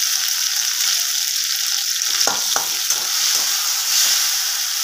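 Dried red chillies and whole cumin seeds frying in hot oil as a tempering for an egg curry, a steady close hiss with a couple of sharper crackles partway through.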